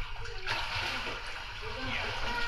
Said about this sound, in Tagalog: Ang lamig na tubig.